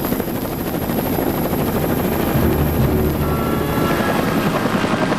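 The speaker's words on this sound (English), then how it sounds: "a helicopter sweeps the waves with searchlights" A helicopter roars loud and close as it sweeps low over the waves of a stormy lake during a gale, its rotor drone steady and unbroken.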